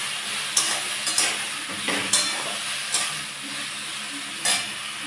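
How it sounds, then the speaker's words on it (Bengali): Potato pieces fry in oil with turmeric and salt, a constant sizzle broken by several sharp scraping stirs of a spatula in the pan, close and loud. "দিয়ে এটাকে ভালো করে একটু ভেজে নিচ্ছি"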